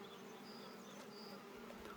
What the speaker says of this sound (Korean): 지금 여기 벌이 보면은 들어오는 벌, 나가는 벌 모양이 다 다릅니다.